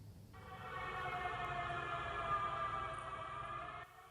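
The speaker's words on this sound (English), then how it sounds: "A siren wails" A steady, faint siren holds a long wailing tone over a distant low rumble, then cuts off abruptly near the end, in the Conwy Valley, Wales.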